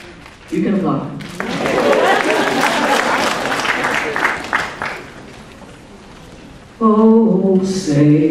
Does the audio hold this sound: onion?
no